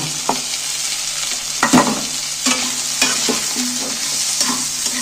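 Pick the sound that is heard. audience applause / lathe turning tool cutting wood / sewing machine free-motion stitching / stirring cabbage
stirring cabbage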